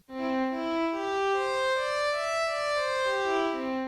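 A sustained synthesizer tone with a slow, soft, swelling attack and a slight piano-like quality, sliding between a few held pitches, smooth and bright, with no voices.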